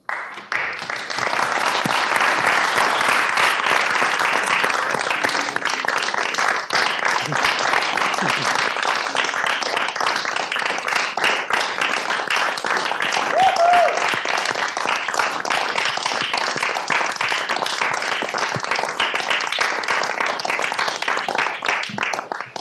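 Sustained applause fills a Senate chamber, a dense, loud roar of many hands clapping that rises quickly and holds steady for over twenty seconds, with a few faint voices mixed in.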